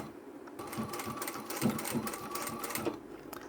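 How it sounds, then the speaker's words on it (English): A sewing machine stitches a seam on a large trapezoid-shaped utility bag at short stitch length, running steadily and close by for several seconds with a fast, even whirr and no talk over it. "I'll sew this with a seam allowance that's less than 1 centimetre"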